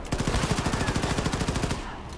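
Rapid automatic gunfire rattles in a tight, even burst for nearly two seconds during a firefight in the shooter Wolfenstein II: The New Colossus, then cuts off.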